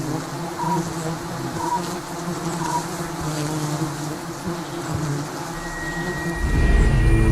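Giant honeybees swarm around a nest in a steady, dense, droning buzz that holds loud and continuous throughout, with a deeper rumble swelling near the end and no voices.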